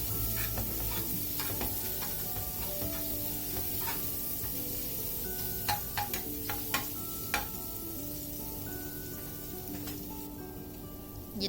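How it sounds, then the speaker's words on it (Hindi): Garlic paste fries lightly in a pan of oil with a steady soft sizzle throughout, broken by scattered small pops and crackles and the occasional scrape of stirring. "इसमें मैं डालूंगी लहसुन का पेस्ट, इसको हल्का सा फ्राई करेंगे।"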